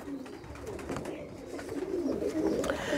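Racing pigeons in a loft coo in soft, repeated throaty murmurs, several birds overlapping close by, with faint shuffling in the background.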